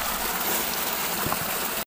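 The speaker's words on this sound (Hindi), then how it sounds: "ये है पानी का धारा" A mountain water stream flowing by an old village washing spot near a tunnel, a steady close rushing wash that cuts off abruptly at the end.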